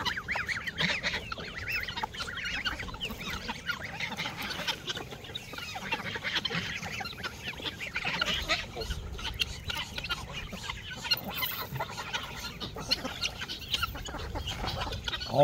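Geese honk and chickens cluck together in a backyard poultry coop, a dense, busy chorus of overlapping calls that stays loud and continuous throughout.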